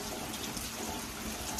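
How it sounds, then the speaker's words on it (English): Steady rain falls outdoors on a mild morning, a faint continuous hiss of drops with no voices. "it started like raining harder when I got out here"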